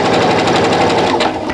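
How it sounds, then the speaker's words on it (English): Sewing machine stitching a quarter-inch seam on a half square triangle quilt block, a fast, steady, loud mechanical whir with even rapid pulses. "make sure I sew that 1/4 inch seam"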